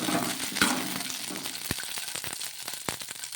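Onion and green chillies fry in a pan while being stirred: a dense, continuous close sizzle broken by a few crisp knocks and scrapes of the spoon, with no speech.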